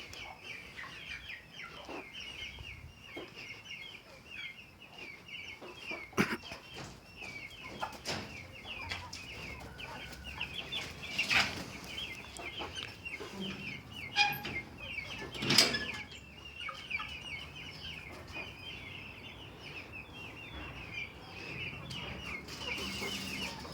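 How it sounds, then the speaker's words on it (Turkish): Chickens cluck and murmur continuously in a group inside a coop, fairly faint, with occasional louder squawks and rustling scattered through. "tavuklarımızın olduğu yere gösteriyorum"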